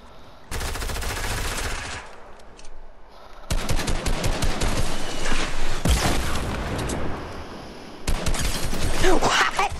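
Bursts of rapid automatic gunfire in a Minecraft-style creative hunger games match, loud, dense volleys starting after a brief quiet, pausing, then returning in heavy sustained rattling with booming hits.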